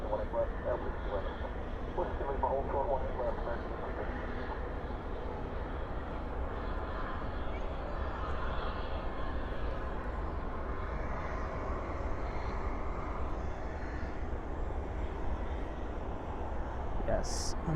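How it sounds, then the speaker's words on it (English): FedEx widebody jet landing on the east side of DFW airport at night: a steady, distant broadband engine roar and rumble runs the whole time, fairly even in loudness, with no nearby voices. "I'm gonna quickly pan to the FedEx 76. Landing there on the east side."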